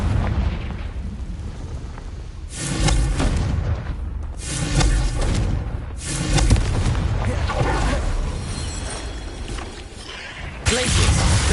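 Confringo fire blast spells from Hogwarts Legacy go off as several loud, rushing bursts a second or two apart, ending with a sharp blast near the end, all over a steady bed of game noise.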